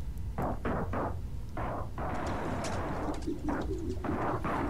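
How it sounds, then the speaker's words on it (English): Pigeons in the Spider-Man: Miles Morales video game coo in repeated low, throaty bursts, several birds overlapping close by over a steady city-like background hum, with no talking. "But no, those are definitely pigeons."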